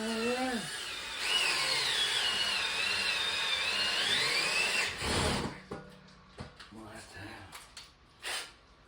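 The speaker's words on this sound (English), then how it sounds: "Drill." Power drill running steadily at high speed for about four seconds while installing a shower hand rail, then stopping abruptly, followed by scattered knocks and handling noises with brief talk.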